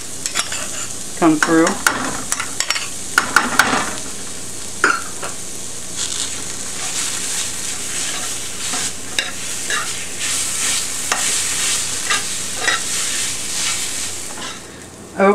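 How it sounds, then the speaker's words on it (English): Tomato paste sizzles in a pan for a taco casserole while a spoon stirs and scrapes it in short bursts, a steady frying hiss underneath; a voice speaks briefly. "we want to cook the tomato paste until it starts to turn a brown"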